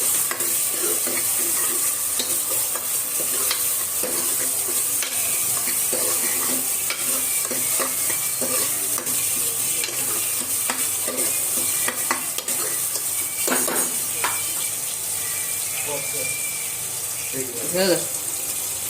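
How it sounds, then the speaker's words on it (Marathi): Ginger-garlic paste frying in oil for a village-style mutton curry, a continuous close sizzle broken by repeated scraping and knocking of a spoon stirring the pan, with a brief watery splash near the end. "आता अदरक लसूणची पेस्ट टाकूया याचा वाद जातपर्यंत आपण चांगला हलवून घेऊ"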